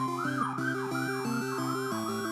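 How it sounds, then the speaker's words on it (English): A wailing siren rises and falls in a steady repeating cycle, sounding from outside at moderate distance, continuous throughout with no voices. "We had a big siren going outside for a moment there."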